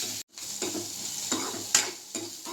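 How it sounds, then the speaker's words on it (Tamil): Onions and coconut sautéing in a pan for roasted tomato chutney, a steady close sizzle broken by repeated scraping stirs and light clatters, after a brief gap near the start. "சேர்த்து எல்லாத்தையும் ஒன்றா வதக்கிக்கலாம்"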